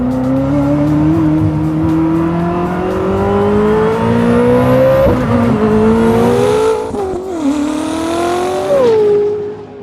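A new Ferrari V12 with a manual gearbox loudly revs and accelerates through the gears on a cool-down lap, its engine note climbing and dropping with shifts, the sound close and continuous throughout.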